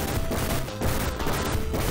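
Rapid gunfire in the video game Probotector, a dense, fast run of shots that fills the short stretch with one brief gap, played loud and alone.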